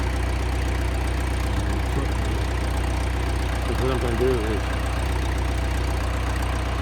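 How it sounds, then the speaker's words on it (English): A tractor engine idles steadily with a low, constant rumble close by, while someone talks briefly over it. "I gotta reposition my tractor over here."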